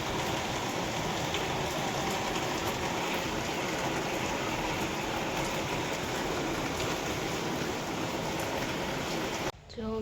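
Rain falls steadily and heavily outdoors during a storm, a dense continuous hiss that stays loud and unbroken for nearly the whole stretch before cutting off abruptly at the end.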